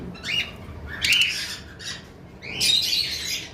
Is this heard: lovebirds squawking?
yes